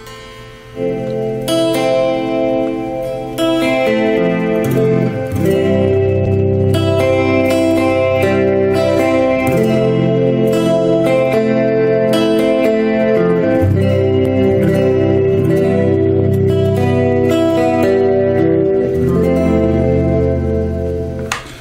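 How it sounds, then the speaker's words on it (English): Electric guitar chords ring out through a spacious reverb patch on a DEP5 effects unit, notes trailing and blending, played loud and continuous without any voices. "Some reverb. It's a nice reverb patch."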